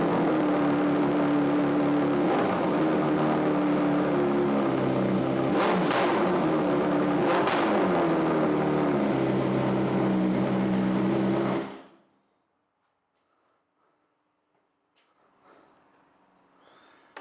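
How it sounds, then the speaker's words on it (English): A 2022 BMW S 1000 RR with a full exhaust idles loud and close after a cold start, with a couple of sharp blips partway through, then cuts off abruptly into near silence. "let's just go ahead and get a cold start on this now"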